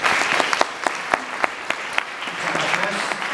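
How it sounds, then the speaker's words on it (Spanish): An audience welcomes José de Zor to the stage at a lecture with a round of applause, dense clapping with a few sharper, distinct claps standing out near the front, steady throughout. "Por favor, un aplauso."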